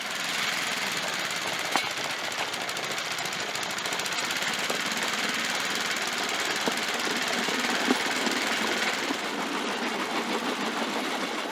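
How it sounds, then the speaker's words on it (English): A petrol motor drives a Cambodian bamboo train cart along rails through a thick rope drive belt. It gives a steady, loud mechanical drone with a rapid clattering rhythm that runs unbroken and alone for the whole stretch, with no voices heard. "A petrol-powered motor turns axles via a thick rope called a drive belt, propelling the bamboo cart forward on the tracks."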